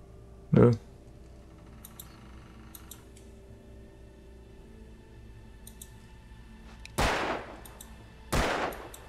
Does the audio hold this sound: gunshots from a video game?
yes